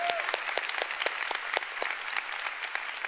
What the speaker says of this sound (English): Give the Lord a big hand.